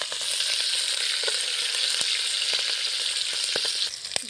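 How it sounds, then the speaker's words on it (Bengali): Slit green chillies hit hot oil already seasoned with bay leaf and panch phoron, producing a loud, steady, close-up sizzle with a few light clicks and a slight drop at the end. "দিয়ে দেবো কটা কাঁচা লঙ্কা চেরা তেলের উপরে"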